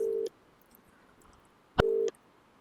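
Phone call tone from an unanswered call: a steady low beep sounds, pauses about one and a half seconds, then the beep sounds again, faint and alone.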